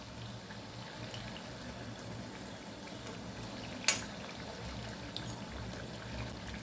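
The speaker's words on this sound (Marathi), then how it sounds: "चकल्या मीडियम गॅसवर तळायच्या" Butter chakli frying on medium flame in oil in a kadhai gives a soft, steady sizzle and bubbling throughout, with one brief sharp click near the middle.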